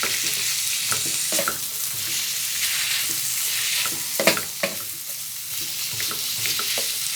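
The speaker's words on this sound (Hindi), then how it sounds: "अब हम इसमें ऐड करेंगे कीमा, उसे अच्छे से मिक्स करेंगे।" Minced keema with a little added fat fries on a tawa over tomatoes. A continuous close sizzle runs throughout, broken by repeated scraping and clacking stirring strokes, and no one speaks.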